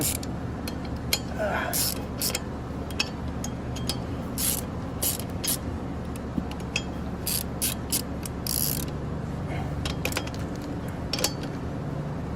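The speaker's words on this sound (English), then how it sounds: "This ratchet I think is broken." Ratchet wrench clicking as bolts are tightened during a manual transmission swap on a third-generation Camaro Z28, a steady run of close, sharp ratcheting clicks and metallic ticks over a low hum for most of the stretch.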